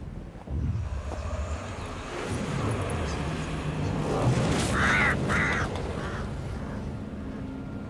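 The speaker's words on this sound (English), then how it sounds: "Spooky bird." Eerie bird calls in The Witcher 3: Wild Hunt, two or three harsh squawking cries around the middle over a windy, rumbling game ambience, moderately loud and fairly close.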